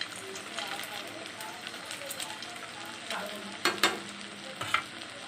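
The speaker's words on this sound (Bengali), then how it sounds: "লাল লাল করে ভেজে নেব।" Suji coconut pithe fry in a pan with a soft, steady sizzle, punctuated by a few sharper clatters near the end, while someone speaks over it in Bengali.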